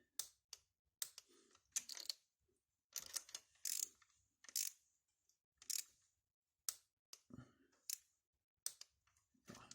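A torque wrench ratchets in quick, crisp bursts of clicks as glow plugs are tightened on a Volkswagen Passat B6. The clicking is close and quiet, separated by short pauses.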